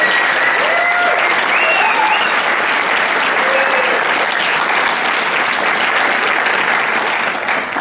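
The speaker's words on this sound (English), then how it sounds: "So yeah, huge round of applause." Loud, sustained applause from the audience at a hackathon closing ceremony fills the whole stretch, a dense steady wash of clapping with a few cheers and whistles rising above it.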